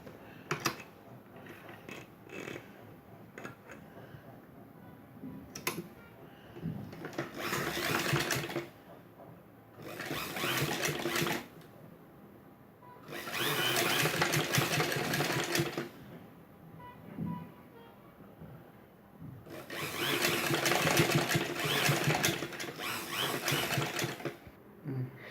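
A sewing machine stitches a blouse in four long bursts of steady, fast whirring with short pauses between them, close and clear, and a faint quieter background in the gaps.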